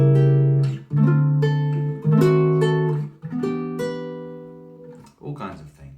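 On guitar, a chord sequence that includes a diminished chord is strummed in about five distinct chords, each ringing briefly before the next, close and clear, ending in a few quieter picked notes.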